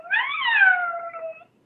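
A cat with tangled whiskers lets out one long, drawn-out dramatic meow that rises and then slowly falls, clear and close with no other sound around it.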